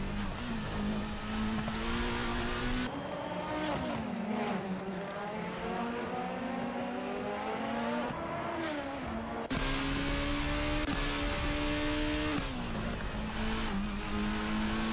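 Onboard engine sound from the number 11 car in a Formula Hololive video-game race at the Tokachi Superprix, a loud continuous high-pitched whine rising and falling through gear changes, with other cars droning alongside.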